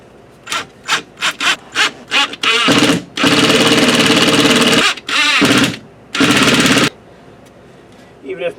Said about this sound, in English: pre-drilling holes is always the preferred method